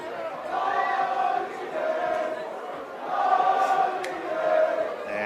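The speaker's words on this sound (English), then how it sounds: "And the crowd starts to chant again of lolly legs." Spectators at a youth under-16 rugby league grand final chant in rising and falling waves, a large crowd voicing rhythmic calls from some distance, steady and moderately loud.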